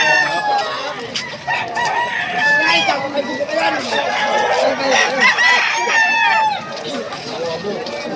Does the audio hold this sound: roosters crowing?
yes